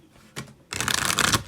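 A short riffle of cards, then a longer, crisp flurry of shuffling, close and clear with no talking.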